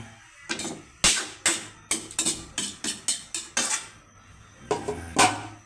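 A metal pan of beef broccoli with corn is stir-fried and then covered with a lid. Sharp, close metallic clanks and clatters come in an uneven series of about a dozen hits, some in quick clusters, with no speech.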